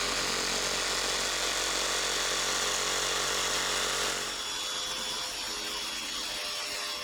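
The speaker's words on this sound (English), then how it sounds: "I'm just going to lay that on top of my table saw and cut out the piece roughly with the jigsaw." Loud, close buzz of a jigsaw cutting a sheet laid on a table saw, steady for about four seconds before the cut ends and the motor winds down to a lower hum.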